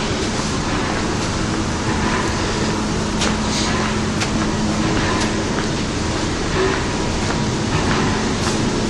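A steam locomotive, Tangmere, departs with a rail tour, rumbling steadily past at close range, a continuous heavy roar with occasional clanks and rhythmic rail clatter throughout.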